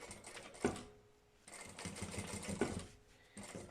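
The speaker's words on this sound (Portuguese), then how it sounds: "E agora é só costurar aqui, reenfinhar o vivo." A sewing machine stitches piping onto a lunch bag in two rapid mechanical runs, each a close, even whir of needle strokes separated by a brief pause.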